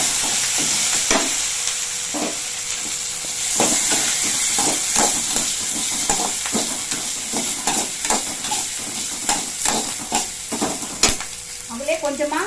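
Curry leaves and garlic fry in a pan with ginger and dried chillies while making a pirandai thuvayal. Loud, close sizzling and crackling runs throughout, broken by repeated scraping strokes of stirring.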